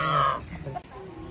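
Chickens at a children's play farm give a short burst of clucking close by, with a child and an adult talking nearby.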